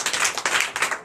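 A church congregation at a Sunday worship service in Comè, Benin claps together in acclamation, a dense, continuous burst of many hands filling the room with no voices standing out.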